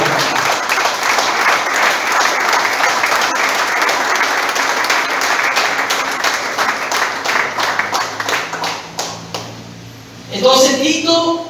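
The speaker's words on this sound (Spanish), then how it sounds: "Aplausos." A large audience applauding for several seconds, a dense steady wash of clapping that thins near the end before a voice starts speaking.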